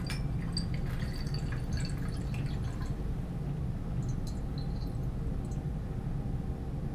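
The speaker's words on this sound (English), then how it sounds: "I pour the reaction mixture into a separatory funnel" A reaction mixture of alcohol, acid and catalyst is poured from glassware into a separatory funnel, giving a steady close liquid splash and trickle with light glassy drips throughout.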